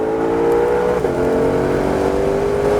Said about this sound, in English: we're going to roll on that throttle. We're going to accelerate all the way to 2 yellows